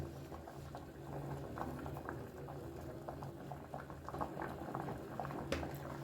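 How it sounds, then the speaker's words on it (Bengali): Gota sedho, a Bengali whole-vegetable stew seasoned with salt and turmeric, boiling on high flame: a steady, soft bubbling and popping of liquid in a pot, continuous and fairly quiet, with no speech. "হাই ফ্লেমেই এটাকে আমি প্রায় সাত আট মিনিট মতন ফুটতে দেব"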